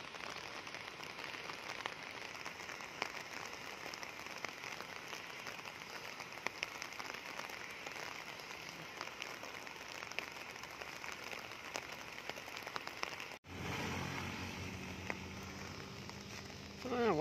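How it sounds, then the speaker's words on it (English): Rain falls outdoors near a small lake in the Philippines, a soft, constant, faint patter that continues throughout, with an abrupt shift in the sound about three-quarters of the way in. "Hopefully the rain will stop."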